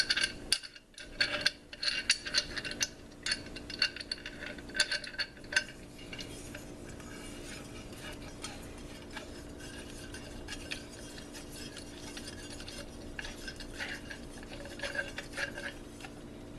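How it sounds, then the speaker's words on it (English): Parts of a new Turning Point metal-detecting shovel are fitted together and tightened, giving light metallic clinks, scrapes and knocks, busier in the first few seconds and then sparse and quiet, with no talking. "we'll also make sure that everything actually connects as it should here"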